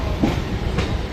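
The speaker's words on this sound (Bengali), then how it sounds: "আর এই যে এটা বেরিয়ে যাচ্ছে হচ্ছে এক্সপ্রেস ট্রেন।" An express train pulls out of Sealdah station, a brief rumbling roll of railway cars with faint clattering, heard up close and steady without voices.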